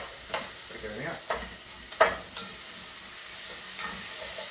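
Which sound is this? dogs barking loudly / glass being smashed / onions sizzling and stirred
onions sizzling and stirred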